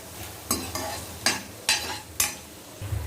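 Onion and chopped garlic frying in oil with cloves, broken by four or five distinct scraping strokes of a spoon across the pan over a faint sizzle, close and evenly spaced.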